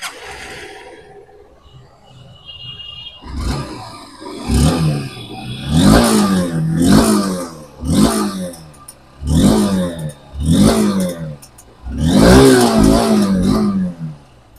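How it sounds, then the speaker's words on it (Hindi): A red 2024 Honda SP 160 BS6 motorcycle is self-started, settles into a quiet idle, then its engine and exhaust are revved hard about six times in close succession, each rev rising sharply and dropping back, loud and near. "अभी गए जस्ट आपने इस गाड़ी का एग्जॉस्ट साउंड को सुना"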